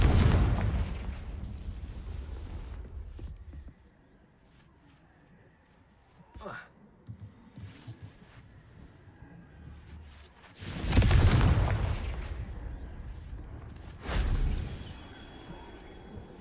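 Confringo fire-blast spell cast in Hogwarts Legacy, heard as loud explosive booms with crackling bursts, the biggest ones landing near the end with sharp impacts and rumbling decay.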